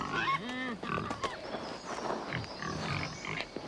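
Huli pigs in Papua New Guinea root around for earthworms in garden soil, giving close grunts and snuffling squeals with an active, irregular rhythm over rustling ground noise.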